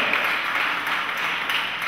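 Audience at a Haiti–Poland solidarity day gathering claps continuously, a dense even wash of applause with no pauses across the short stretch.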